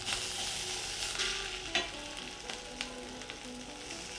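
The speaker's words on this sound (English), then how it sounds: "I feel like this steak is already burning, but we'll see. Right, we're going to flip them over." Steaks for steak au poivre sear in an unevenly heated pan after flipping, giving a steady close sizzle with scattered pops and spatters, no talking.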